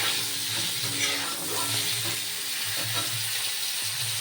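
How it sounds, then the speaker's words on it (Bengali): Cauliflower and potato pieces frying in a pan, giving a continuous even sizzle and hiss with faint stirring movements, no voices. "এবার আমি ফুলকপি আলুটাকে সুন্দর করে লাল লাল করে ভেজে দেবো।"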